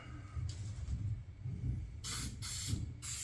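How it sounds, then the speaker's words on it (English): Short hissing bursts of an aerosol adhesive spray can on a plastic bumper, close by: a brief puff, then three quick sprays in a row over a low background rumble. "you don't spray a ton in there. You just put a nice dust coat on it"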